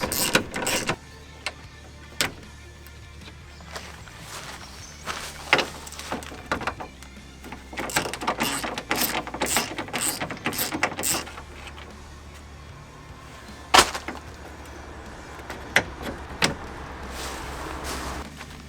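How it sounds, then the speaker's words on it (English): A ratchet with a 12mm socket removes radiator brackets on a Subaru Forester, with irregular close clicks, taps and metallic knocks in a garage-like space over a low steady hum. "Then you have to remove these two brackets with your 12mm socket."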